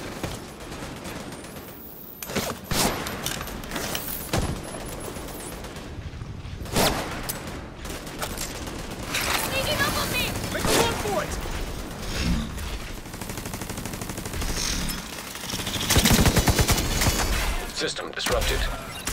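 Video game gunfire from The Division 2, a Black Tusk assault, with scattered bursts of shots and mechanical clatter throughout, mixed with excited voices talking over the action.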